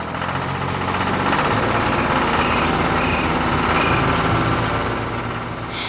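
A large wide-tired tractor's heavy engine rumbles steadily and loudly throughout as it drives over tilled farmland, a continuous low diesel drone with no pauses.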